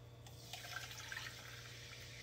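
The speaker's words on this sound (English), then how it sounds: "We'll add some sparkling water from our soda stream." Sparkling water from a SodaStream pours over ice in a glass for a raspberry lemonade mocktail, a soft fizzing splash with faint crackles over a low steady hum.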